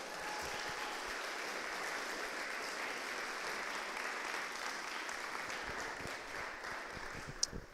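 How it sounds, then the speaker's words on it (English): Steady applause from an audience thanking the hosts at an evening debate event on whether God exists, with a dense even patter filling the room and no voices over it. "If we give them a round of applause."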